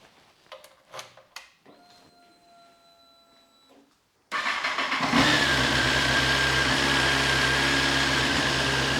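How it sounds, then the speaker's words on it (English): Quiet clicks and a faint electronic whine, then a Honda CBR954RR motorcycle with stock exhaust cranks and catches, settling into a steady, moderately loud idle with a few blips of revving. "let's fire up the 954 and let's see what the standard can sounds like."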